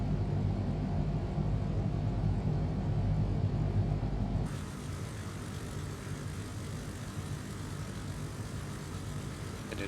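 Twin engines of a Piper PA-31 Navajo in X-Plane 11 drone steadily while taxiing, a dense, continuous rumble that drops slightly in level partway through, with no talking.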